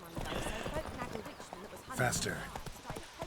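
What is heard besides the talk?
horse Roach galloping, hooves clip-clop, in video game The Witcher 3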